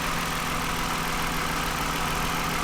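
A 2009 Toyota Highlander engine idles at a steady, even hum with no misfire stumbles, a constant close drone with no voices.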